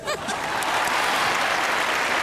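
Loud, dense clapping from a TV game show studio audience builds quickly and holds steady, with a brief voice or chuckle at the very start.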